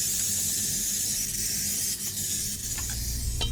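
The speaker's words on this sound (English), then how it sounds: "we're going to spray our Bundt Pan with Baker's Joy" Baker's Joy baking spray hisses into a Bundt pan in a continuous close, airy spray, with a brief sharp tap near the end.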